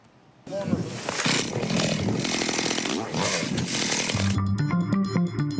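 After a brief quiet moment, a motorized saw starts up loud and close, its engine snarling continuously and wavering in pitch as it cuts into ice on a frozen body of water.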